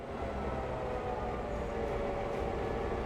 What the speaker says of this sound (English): Did the train pass us?